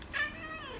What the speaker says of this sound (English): Happy cat.